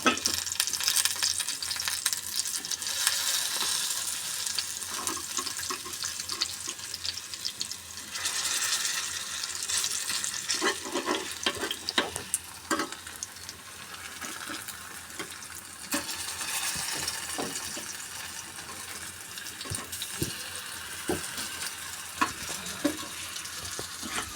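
Pieces of elephant foot yam (chena) frying in a pan, a continuous loud sizzle with scraping and clattering as they are stirred and turned, no speech.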